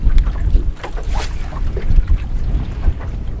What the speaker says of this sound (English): that wind's definitely shifting to the east